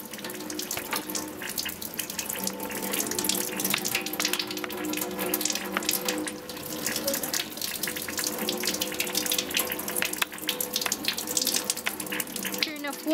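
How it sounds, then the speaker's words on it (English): Water runs steadily and loudly from a tap during a surgical hand scrub, a continuous close splashing rush as hands and arms are rinsed. "Rinsed hands and arms. Avoid splashing water on surgical attire."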